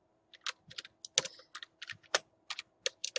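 Typing on a computer keyboard produces a steady patter of crisp, close key clicks in an uneven rhythm, some strokes louder than others, with no speech over them.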